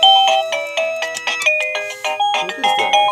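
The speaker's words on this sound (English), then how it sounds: "Doorbell." A Liztek wireless doorbell plays a bright electronic chime melody, a quick sequence of ringing tones, loud and near, without speech.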